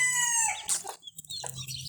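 Broody hens lead their chicks about, with thin high peeping at first, then close, short clucks in an uneven run.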